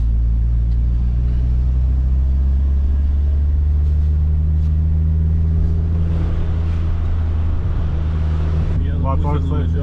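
A car climbs the Grossglockner mountain road in Austria. Its engine drones low and steady at close range, with cabin rumble and a faint rise in revs, while people talk quietly over the motor.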